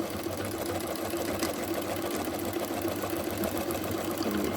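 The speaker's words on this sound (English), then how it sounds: "And we're going to start sewing again." An Empisal Goldline Deluxe automatic sewing machine stitches at a halfway stitch-regulation setting, giving a steady, close mechanical whir and hum that runs without a break for the whole stretch, with no voices.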